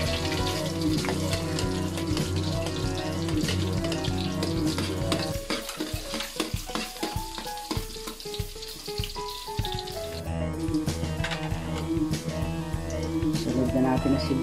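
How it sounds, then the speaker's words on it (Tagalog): Garlic and onion sauté in a pan for Batangas-style lomi. A continuous sizzle and occasional stirring sit under tonal background music and a speaking voice. "sunod na natin igisa yung bawang sibuya"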